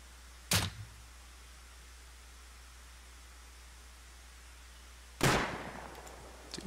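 Two sharp, loud gunshot cracks in the game Rust, several seconds apart, the second trailing into a brief echoing tail. AK rifles are in play. A steady low hum sits underneath and no one speaks.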